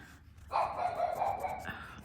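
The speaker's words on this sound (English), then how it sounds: "Sorry about the barking dog." A dog barks and yelps in a single drawn-out burst, moderately loud, coming from nearby during a quiet indoor art-making session.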